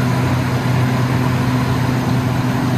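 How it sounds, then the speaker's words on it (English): A truck's engine cooling fan, fitted after a fan motor replacement, whirs steadily at close range with a low engine hum beneath it, outdoors in rain. "That's the fan. Woohoo! Just blowing out with it."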